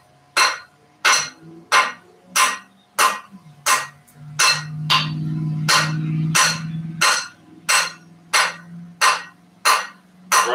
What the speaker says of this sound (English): Right now, I'm just forging down on the 45. Forging these corners in, going down to 8 sides.